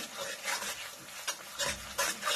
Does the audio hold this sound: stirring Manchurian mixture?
yes